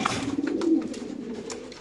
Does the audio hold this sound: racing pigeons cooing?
yes